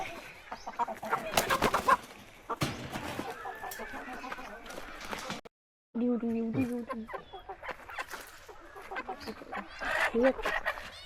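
Chickens cluck and squawk close by in irregular bursts in a farm shed, one rooster with a leg broken by a mongoose, with people talking in the background and a brief silence midway.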